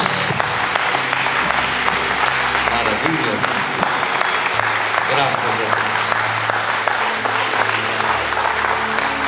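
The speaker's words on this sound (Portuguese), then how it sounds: "Aplauda do Senhor Jesus." A church congregation applauds at a worship service, dense steady clapping filling the room for the whole stretch while a preacher's voice speaks over it and music plays underneath.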